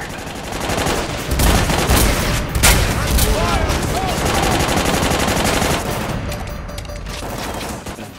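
Sustained machine-gun fire in the Army of Two video game, with dense, loud rapid bursts and booms throughout and a character voice shouting over the shooting.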